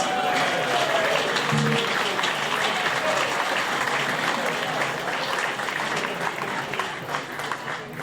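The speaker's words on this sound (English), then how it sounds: "I think we need to give Adam Spencer a huge round of applause" A long round of audience applause at an evening event fills the room with dense, continuous clapping, and a few voices and cheers are briefly audible before it slowly thins toward the end.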